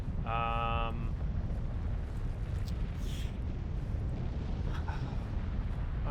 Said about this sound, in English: that would be the volcano exploding.